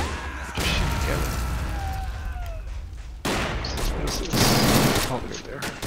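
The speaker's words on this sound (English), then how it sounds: "shoot those things while they're shooting at my conscripts" Heavy gunfire in a WW2 video game battle, dense bursts of rapid and overlapping shots that rise and fall over the whole stretch, with a person speaking over the fighting.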